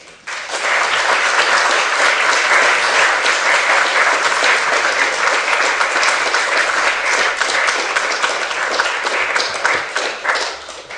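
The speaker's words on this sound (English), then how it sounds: "ladies and gentlemen, a round of applause." A lecture audience breaks into sustained applause at the close of an architecture talk, loud and even clapping from many hands that swells in quickly and carries on for about ten seconds before thinning.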